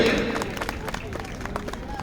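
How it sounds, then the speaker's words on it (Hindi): A crowd applauding a poet at a kavi sammelan poetry recital during a fair, a fairly faint, steady scatter of claps heard at a distance, with a voice talking over the start. "इनके सम्मान में एक बार आप जोरदार तालियां बजाइए"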